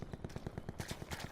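Gunfire in the Call of Duty Blackout video game: a rapid, regular burst of automatic shots at moderate distance, steady rhythm throughout with no talking.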